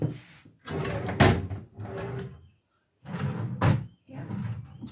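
Drawers in a hotel room slide open and shut in a few loud, close scraping bursts, separated by short pauses, with no voices.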